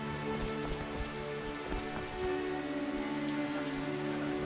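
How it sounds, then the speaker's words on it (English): Steady rain in The Witcher patters on a surface with scattered drops, over a faint, sustained musical drone in the background. "Some rain."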